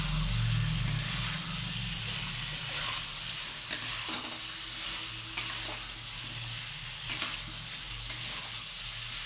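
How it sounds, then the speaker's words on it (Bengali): Spice paste of ginger, cumin, tomato, chili and garlic sautéing in a pan for potato curry, a steady close sizzle with occasional clinks and scrapes of stirring throughout. "মশলা দিয়ে দিয়েছি আদা জিরে বাটা টমেটো লঙ্কা রসুন সব কিছু দিয়ে এখন মা ভালো করে কষিয়ে নিচ্ছে"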